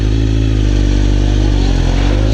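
A 1000cc liter-class motorcycle accelerates while being ridden, its loud, close engine droning steadily with a slight shift in pitch throughout.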